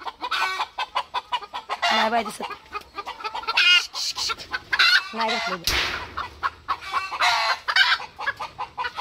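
A hen clucks repeatedly close by on a Maharashtra village farm while she looks for a place to lay an egg, her clucks mixed in with ongoing conversation.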